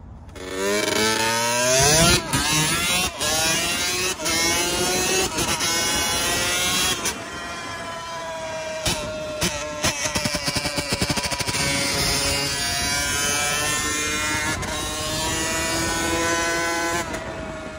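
A Yamaha YZ65 dirt bike after a rebuild, its small two-stroke engine running loud and close, revving up and down through repeated throttle blips with rising and falling pitch throughout, no talk.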